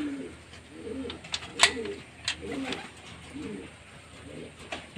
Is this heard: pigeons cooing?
yes